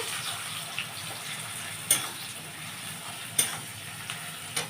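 Chopped onions sizzle steadily as they fry in a pan for an egg chicken tarka, a continuous hiss with a few sharp spits and pops standing out.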